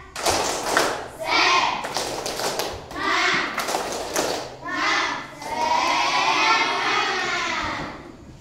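A school class claps in a rhythmic spirit-clapping pattern led by the class leader, bursts of hand claps in short grouped phrases alternating with children's chanting voices in a classroom.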